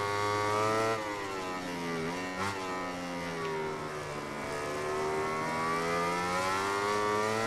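Motorcycle engine in the MotoGP 19 racing game during the Qatar GP, holding a loud steady high-pitched drone with rising and falling revs and a brief gear change partway through.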